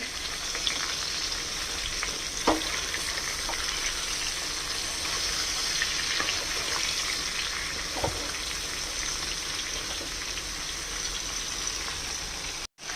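Vegetables and prawns frying in mustard paste give a steady, close sizzle for the whole stretch, with a few faint clicks of stirring scattered through.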